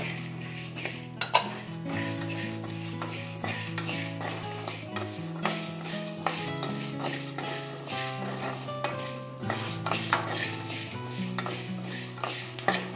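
Fenugreek seeds stirred and dry-roasted in a metal pan for homemade pulihora spice powder, with steady scraping and light clinking of a utensil against the pan throughout, close and moderately loud with no talking.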